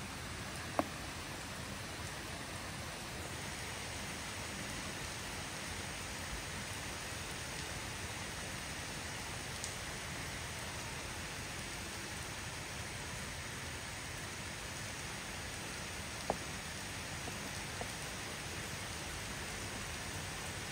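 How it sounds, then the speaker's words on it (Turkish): Steady rain falls for the whole stretch, an even broadband hiss with a few sharper drop hits, heard alone with no voices. "Yağmur bereketiyle yağsın inşallah."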